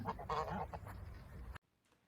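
Geese honk and cackle together in a short, busy flurry, fairly close, then it cuts off into near silence.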